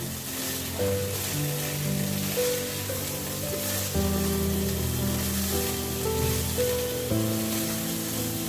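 Pointed gourd, potato and soya chunks fry together in a pan with a steady, close sizzle, while tuneful background music plays throughout.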